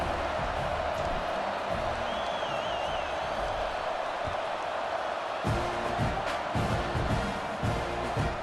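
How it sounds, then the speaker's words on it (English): Football stadium crowd in the College Football 26 video game, a steady broad murmur of a large crowd, subdued and even, with a faint swell and background game audio. "boy, did that last drive quiet this crowd"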